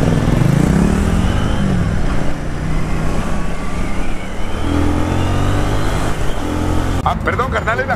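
An Italika Z250 motorcycle engine revs on a ride through traffic, a loud, steady mid-pitched drone with slight rises in pitch and wind roar throughout, heard close up, with a brief rattle near the end.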